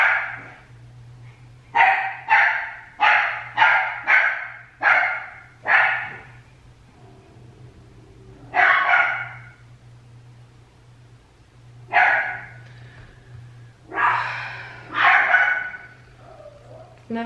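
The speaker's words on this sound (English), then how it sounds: "They'll just keep barking." Several dogs bark in repeated bursts, loud and close, in a rapid string at first, then in scattered clusters with pauses between.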